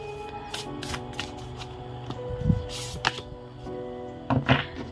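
Oracle cards being shuffled by hand during a tarot-style reading, a run of soft riffling flicks and slaps in uneven bursts, close and fairly quiet with no talking.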